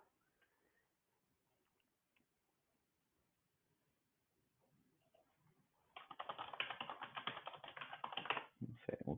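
Computer keyboard shortcut keystrokes, first a few faint scattered taps, then a dense burst of rapid, close clicking and clacking.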